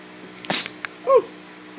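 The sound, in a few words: sneeze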